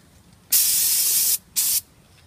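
Brake cleaner sprayed onto the rear brake rotor of a 2003 Suburban: one long, loud aerosol hiss lasting almost a second, then a shorter second burst, close by with no talk.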